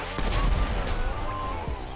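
Fireworks going off in GTA V, a rapid crackling burst of sharp bangs like a fusillade, loud at first and then trailing into scattered pops.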